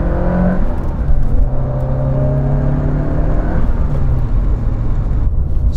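A Lancia Delta Integrale restomod, a 90s rally hot hatch with full-time four-wheel drive and a turbo, pulls at full throttle, its engine droning loud and steady from inside the car as the pitch gradually climbs.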